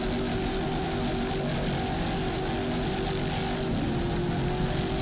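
A racing powerboat at the 2002 Miami Grand Prix roars with a loud, sustained engine drone as the throttle is worked, the pitch shifting slightly near the end over constant wind and water noise.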